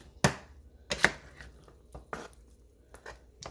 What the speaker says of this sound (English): So I'm going to go ahead and open the lid and just give it a stir